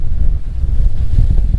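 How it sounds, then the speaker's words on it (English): Strong wind buffets a sailing yacht at sea, a loud low rumble of gusts across the microphone with the wash of water beneath, steady and close with no voices. "Finally getting some good wind on the beam, or at least forward of the beam"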